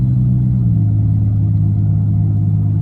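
A 1990 Oldsmobile Cutlass Supreme with a 3.1 V6 pulls under steady load, a loud continuous low engine drone from inside the car with a slight rise in pitch, no talking.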